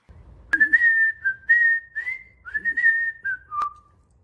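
A skilled whistler carries the melody of a song from A Funny Thing Happened on the Way to the Forum, a clear, close solo line of connected phrases with little background noise.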